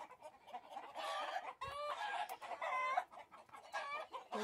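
Laying hens and roosters on a farm in the Sierra de Chihuahua, Mexico, cluck steadily and squawk noisily close by, with harmonic calls repeating throughout and no voices.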